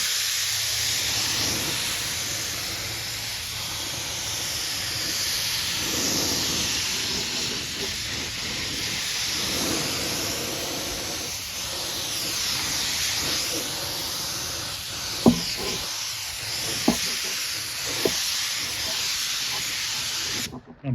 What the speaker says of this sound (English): now I'm going to spray some 2K primer